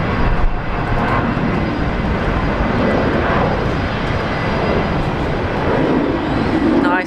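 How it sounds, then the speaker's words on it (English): An Alliance Airlines jet takes off at Brisbane Airport, its engines a loud, sustained broadband roar that holds steady throughout, heard from nearby without speech. "Nice takeoff."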